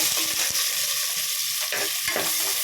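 Chopped onions sizzle and crackle steadily in hot oil for chicken curry, with occasional scraping stirs, close and fairly loud with no talking.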